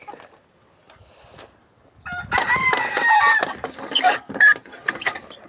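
A hen in an aviary, just after laying an egg, lets out loud, repeated clucks and cackles close by, following a quiet stretch with faint rustling.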